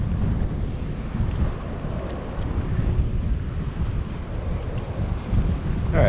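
Strong wind buffets the microphone at a shore fishing spot in Nassau, Bahamas, a steady, loud, low roar with gusty surges and no talking throughout.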